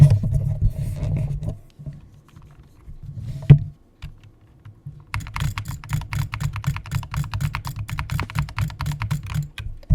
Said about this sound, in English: I'll just do a keyboard sound check.